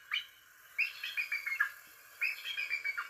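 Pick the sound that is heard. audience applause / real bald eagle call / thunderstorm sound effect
real bald eagle call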